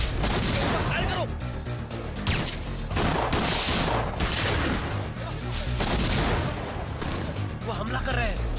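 Gunfire in a Hindi film shootout between customs officers and attackers, dense and continuous bursts of shots and crashes running the whole length, loud and close, with shouting voices mixed in throughout.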